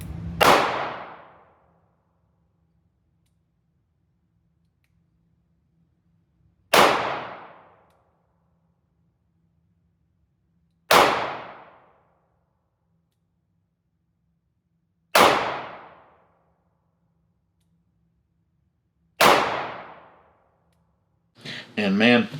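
S&W J Frame Ultimate Carry .38 Special revolver fired slow and two-handed at 3 yards, five sharp, loud cracks spaced about four seconds apart with short decays, near silence between them, and a brief voice at the end.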